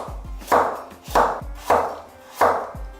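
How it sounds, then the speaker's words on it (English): A knife cuts carrot into matchsticks on a board, four regular heavy chopping strokes about every 0.6 seconds, each thunk with a short scraping tail, close and alone with no talk. "Slice the carrot like a poker card, and then cut in small matchstick like this"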